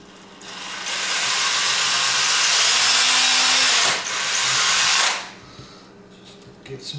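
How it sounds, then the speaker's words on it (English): Power drill whirring loudly during a 12 volt relay setup, one sustained high-pitched spin for about four seconds, a brief dip, then a short second burst before stopping. "just get some drilling."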